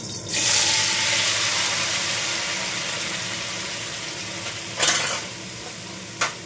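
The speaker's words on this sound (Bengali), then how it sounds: "তো এই আলুগুলো আমি এখন তেলে দিয়ে দেবো।" Potatoes hit hot oil in a pan and burst into a loud, close sizzle that steadily eases, with a couple of brief stirring bursts near the end.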